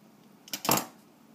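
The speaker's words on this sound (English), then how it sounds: "So we're going to take the top off it with a sharp knife." A sharp knife slices through the top of a Bigg Maxx mega burger in one brief, close crunching scrape lasting under half a second, with quiet room tone around it and no talk.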